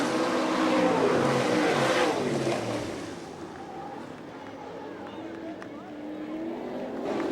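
All Star Circuit of Champions sprint cars roar past at Fremont, Ohio, their engines loud and revving, then fading into a distant drone as they race to the checkered flag, with an announcer talking over them.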